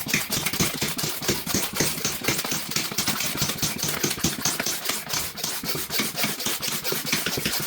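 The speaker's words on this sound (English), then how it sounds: "I just wanted to see how good this hand pump would work" Hand pump sucking air out of a vacuum seal storage bag: rapid rhythmic rasping strokes repeat steadily, close and fairly loud, with no talk.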